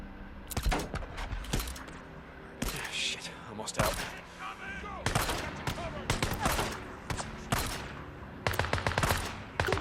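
Repeated shotgun blasts in the PlayStation game Days Gone, loud broadband bursts coming in irregular volleys across the whole stretch, with dense gunfire and game effects between them.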